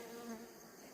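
Bees buzz in a continuous, faint, even hum, with a higher whine sliding briefly over it, and no voices.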